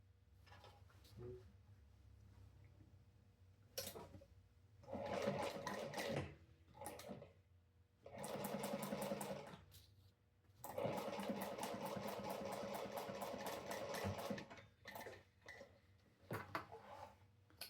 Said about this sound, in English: back stitching at the front start and end of each seam.